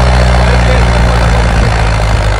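A modified tractor engine runs loud and close with a deep, steady throbbing rumble at a village tractor challenge, continuous throughout with no clear talk.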